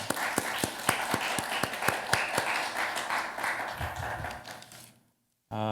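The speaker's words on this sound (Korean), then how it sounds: "우리 찬양대를 위해서 큰 박수를 격려하겠습니다" A church congregation at a youth worship service claps for the choir, a modest, fairly quiet round of hand claps with some separate distinct claps, fading out into a brief silence near the end.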